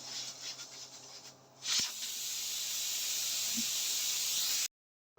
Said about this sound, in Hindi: अब हम चूल्हे को कर देंगे बंद और वेट उतार लेंगे।